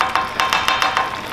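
Lobster rasta pasta being stirred in a pan, a utensil scraping through it in a steady run of about six quick strokes, loud and close with a faint sizzle underneath.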